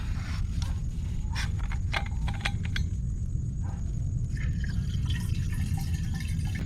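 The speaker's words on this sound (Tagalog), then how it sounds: "Yan, nakakuha na tayong tubig." Irregular drips of water falling from a pipe into a drum at a campsite, scattered over a constant low background rumble.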